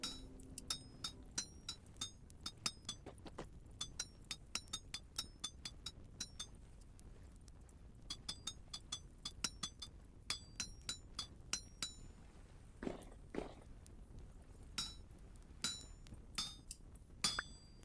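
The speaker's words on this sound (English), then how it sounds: "The night is calm, so I do some smithing." Hammer smithing on an anvil in the video game Vintage Story: a long run of sharp metallic clinks struck in an uneven rhythm, close and bright, with brief pauses between bursts of blows and no talk.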